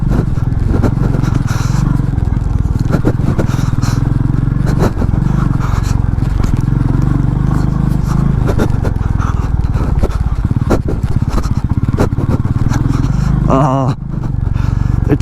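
A Royal Enfield Meteor 350 motorcycle rides over rutted ground full of small stones and rocks, its engine droning steadily under constant scraping and clattering, with a rider talking over it.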